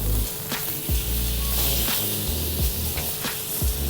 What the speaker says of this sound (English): You need that oil underneath, sizzling as it is now, underneath the meat.